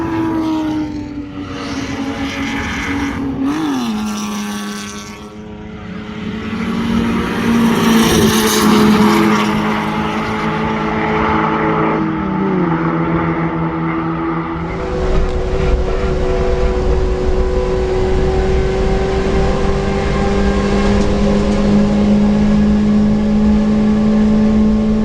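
A Mitsubishi Evo race car laps Pukekohe circuit, its engine droning loud and steady with rising and falling pitch through gear changes, then holding a strong sustained note near the end.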